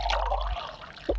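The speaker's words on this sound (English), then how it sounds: "Pour some orange juice" Orange juice pours into a glass at breakfast: a brief close liquid splash and trickle with a low hum underneath and a small clink near the end, no talking.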